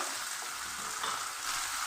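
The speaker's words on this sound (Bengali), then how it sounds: "পেঁয়াজ লাল করে ভাজা হয়ে গেছে একটু হালকা বাদামি কালার চলে এসছে" Long-sliced onions fry in hot oil for a sheat fish curry, a steady, quiet hiss of sizzling with no voices.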